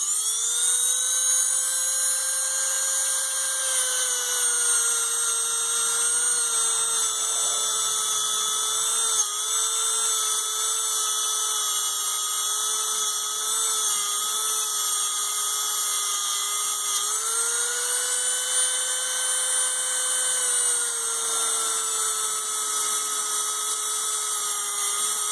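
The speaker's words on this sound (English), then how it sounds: "I'm going to give you the dentist's office sound effects here as I clean these points." Cleaning engine ignition points on a no-start machine with a small rotary tool: a continuous high-pitched whine like a dentist's drill, steady and close for the whole stretch, pitch dipping slightly under load, no voices.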